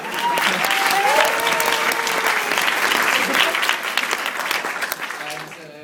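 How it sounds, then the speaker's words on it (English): Sustained audience applause for a keynote speaker at an evening event, a dense wash of clapping hands that holds steady for several seconds before tapering off at the end, with a brief voice heard early over the clapping. "Round of applause, everybody."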